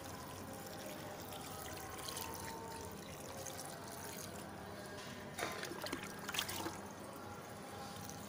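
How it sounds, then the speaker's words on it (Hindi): Water is poured into a small plant pot holding freshly planted turmeric, a faint steady trickle and splash at close range, with brief louder splashes toward the end. "इसमें अच्छे से पानी डाल दीजिए"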